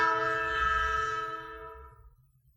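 A train horn sounds one long, loud, harmonically rich blast that fades away over a low rumble of passing rail cars.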